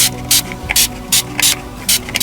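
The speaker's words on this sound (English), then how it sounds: "In fact, I'll spray some water first." A hand spray bottle mists water onto a model railway colliery layout in five quick, evenly spaced hissing bursts, close and fairly loud, with a faint background hum between them.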